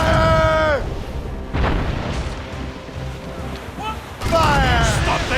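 Ship cannons boom in a naval battle in the video game Assassin's Creed Rogue, loud heavy blasts with rumbling echoes, under shouted commands and crew voices.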